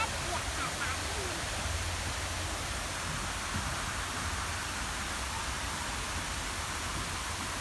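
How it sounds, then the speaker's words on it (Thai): A waterfall in a railway park on a rainy day gives a steady, broad rushing hiss of falling water that stays even and moderately distant throughout. "มาดูมีน้ำตกอีกด้านหนึงอยู่นี่เลย"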